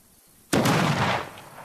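A grenade explodes in the VR zombie shooter Arizona Sunshine: one sudden loud blast after a half-second of quiet, followed by a rumbling roar that fades over about a second.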